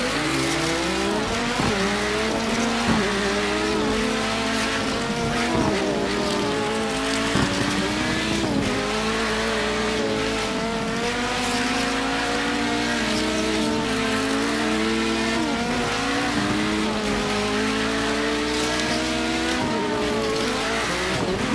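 Small motorized diecast race cars speed around a toy track in a head-to-head tournament heat, a steady whirring motor drone with shifting pitch sweeps running continuously and close, with no talking.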